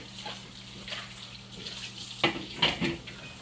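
Dishes, including a baking-tray lid, get a quick rinse under a running kitchen faucet: a soft, steady stream of water with a couple of brief splashes and clinks near the end, close by and quiet.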